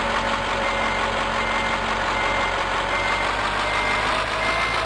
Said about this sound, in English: I think this is the first time we'll ever have parked this truck.